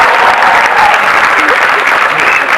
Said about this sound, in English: give me some applause.